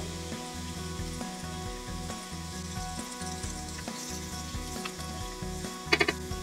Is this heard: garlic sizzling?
yes